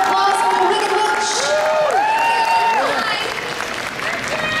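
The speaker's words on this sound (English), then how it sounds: "A round of applause for Rebecca Marder." A convention audience at a film and manga fest applauds a guest actress, steady clapping mixed with cheering and whoops throughout, some voices rising above the crowd.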